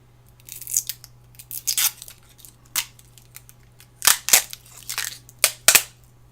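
Protective plastic film being peeled and crinkled off aluminium rails for a Tamiya Volvo FH12 1/14 scale RC truck kit, heard as a run of close, sharp crackling rips and rustles in bursts with short pauses, no talking.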